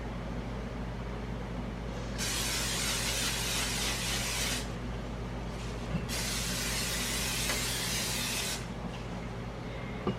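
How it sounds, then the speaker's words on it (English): Two sustained hissing bursts from an aerosol cooking spray can greasing muffin pans, each a few seconds long, over a steady low background hum. "And I use cooking spray, or you can take butter and grease the pans with butter"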